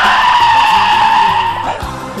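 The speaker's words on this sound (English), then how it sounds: "came to a screeching halt" Taxi tires screech loudly and steadily as the car skids to a halt after taking a sharp turn. The squeal is close and sustained, then fades near the end as the car stops.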